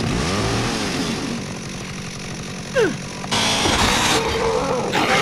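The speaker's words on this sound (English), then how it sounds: "Yes! Chainsaw!" A chainsaw roars and revs in the video game Dead Rising, a harsh continuous buzzing drone that swells and rises in pitch, loud and close, with brief sweeping whooshes and a surge near the end.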